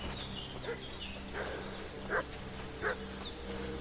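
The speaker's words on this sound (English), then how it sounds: "What's that dog making such a fuss about?" Several short, muffled dog barks in the Kingdom Come Deliverance 2 video game, spaced irregularly over steady ambient background hum, moderately distant with no talking.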